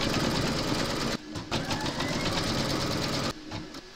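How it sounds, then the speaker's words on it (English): An embroidery sewing machine stitches a placement outline in a steady rapid mechanical chatter, loud and close, with two short pauses. "Load your thread colour for the shutters into your machine, and then you're going to stitch round number 13"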